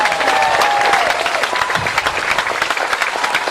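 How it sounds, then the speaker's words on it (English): Outdoors at an elementary school Memorial Day ceremony, a crowd gives a brief round of applause, loud and dense clapping that thins slightly toward the end, with a voice briefly audible early on. "if we can just have one round of applause"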